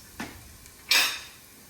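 Jalapenos sautéing in butter in a pan are stirred, giving a soft clink followed by a brighter scraping, sizzling clatter of the utensil against the pan that fades away.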